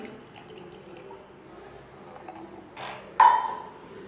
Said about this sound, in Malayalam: ഇനി നമുക്കിതിലേക്ക് ഒരു അര ഗ്ലാസ് വെള്ളം കൂടി ചേർത്ത് കൊടുക്കാം